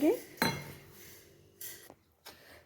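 A metal spoon scrapes and knocks against a dish while mixing vegetables and semolina with a little water, giving a few sharp clinks between quieter scraping, close and alone.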